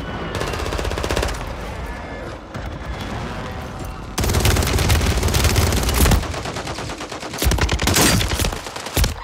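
Call of Duty gunfire: rapid automatic bursts and single shots crackle almost without pause, loud and close, with a louder, denser volley in the second half.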